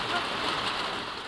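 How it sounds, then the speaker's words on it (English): Steady rain falls in the Swedish wilderness on a canoe trip, a dense, close hiss of drops hitting surfaces that continues unbroken throughout. "It wasn't long before the rain returned."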